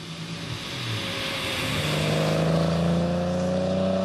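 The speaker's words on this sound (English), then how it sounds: "The cars wind through the vineyards of the Black Forest." Classic cars drive past on a winding Black Forest road through vineyards, each engine rising in a loud, close vroom as it accelerates by.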